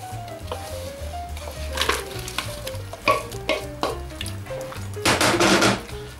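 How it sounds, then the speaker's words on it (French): Potatoes go into salted cooking water for a gratin dauphinois and are stirred, giving close scraping, clinking and splashing sounds in irregular bursts over a steady background. "Voilà, c'est le moment d'ajouter mes pommes de terre."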